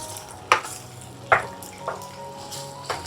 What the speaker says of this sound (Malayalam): ഇനി എല്ലാം ഒന്ന് ഇളക്കി യോജിപ്പിക്കാം.